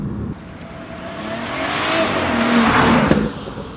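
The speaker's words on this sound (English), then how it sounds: "I'll just put it in sports mode here by pressing that button." A BMW 440i M Sport with its engine in sport mode revs up hard, swelling loud and close from inside the car. The note climbs steadily, peaks near the end, then drops off. No one speaks.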